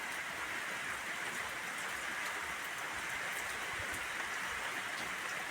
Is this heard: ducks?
no